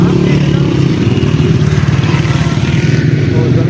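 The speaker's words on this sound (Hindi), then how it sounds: "ये जैसे कि सब लोग अपने अपनी बाइकों पे आ रहे हैं" Motorcycles arrive at the Kala Bagh salt mines with a loud, steady close engine rumble and revving, with people talking over it.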